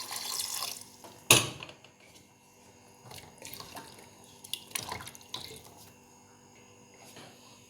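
Water is poured into a pressure cooker holding onion, garlic, ginger and salt for beef shami kabab, giving splashy pours and drips in short bursts with a sharp metallic clank and quiet gaps between.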